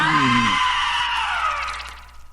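A shrill horror-film scream rises over a descending low wail in an R-rated monster movie trailer, loud at first, then trailing off into a thin fading shriek over about two seconds.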